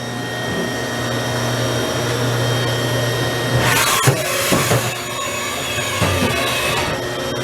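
A Haas VF-4 vertical machining center runs its spindle at 2,000 RPM with a steady whirring hum and a faint tonal whine. Midway through, loud clanks and rattles of the machine cycling break in.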